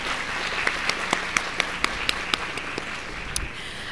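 Guests at the Pampered & Pink event at Audubon Zoo applaud; a soft wash of crowd clapping runs throughout, with a few sharp individual claps standing out at a steady rhythm.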